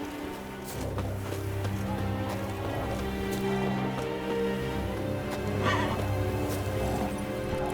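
Roach, a horse in The Witcher 3: Wild Hunt, neighs and whinnies over steady galloping hoofbeats, with a dense low game score and light rain-like texture running throughout.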